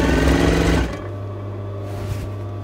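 A sewing machine stitches a dress hem with a lining, running loud and fast for under a second before stopping, leaving a quieter steady hum.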